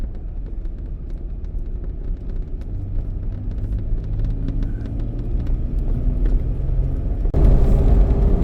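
A car travels on a long Alaska road trip, its steady engine and road rumble droning continuously and fairly loud, with a heavier burst of noise near the end.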